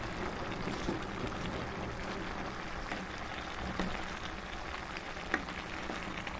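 A pot of chicken and vegetable stew is stirred, giving a steady bubbling, sizzling wash with faint scrapes and one sharp clink near the end, no voices.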